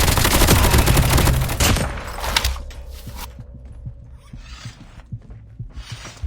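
Call of Duty Mobile battle royale gunfire, a loud dense burst of rapid shots at first, then fading into lighter, evenly spaced single cracks.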